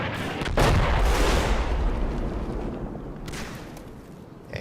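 Mortar fire booms in the Combat Mission: Battle for Normandy video game. A loud, deep blast erupts early on, followed by a rumbling, crackling decay and a fainter second report near the end.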